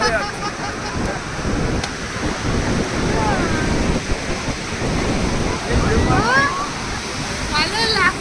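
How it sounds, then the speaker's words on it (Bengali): Ocean waves break and wash continuously onto the beach at Puri, a steady broadband roar with wind buffeting the microphone, while people talk excitedly over it throughout. "এখনটা ঢেউ হচ্ছে"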